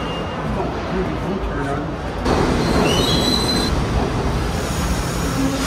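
High metal wheels squealing on a New York City subway train, a loud sustained screech over heavy rumbling rail noise that grows louder midway, with people talking faintly in the car.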